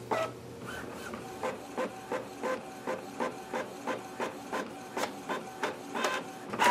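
A Lexmark printer running with compatible ink cartridges, giving a rhythmic series of mechanical clicks and short rasping print-head passes roughly every half second, close and clear, with no voices.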